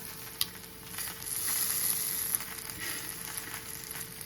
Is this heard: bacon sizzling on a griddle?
yes